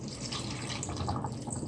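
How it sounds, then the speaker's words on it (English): Water is poured steadily into a blender jar for cherry plum juice, a close, continuous splashing gurgle that runs alone without any talk. "Pouring the water in now."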